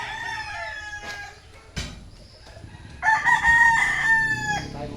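Roosters, a man's prized fighting cocks, crow several times, one long call early, then louder overlapping crows in the last two seconds, close and alone without talk.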